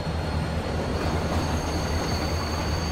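A train rolls along rails in the video game Killer Is Dead, a steady dense rumble and rattle of wheels with a faint high squeal running throughout, loud and continuous with no talking.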